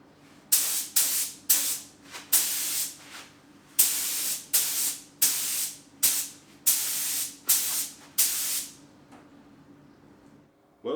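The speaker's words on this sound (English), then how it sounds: "now I'm just putting the second coat of colour on it" Spray gun bursts coat a Honda CX500 motorcycle frame with a second layer of colour over sanded primer, about eleven short hissing pulses in a steady rhythm, close and fairly loud, then silence.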